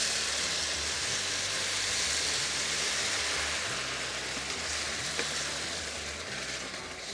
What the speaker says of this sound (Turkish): suyumuzu içine dökelim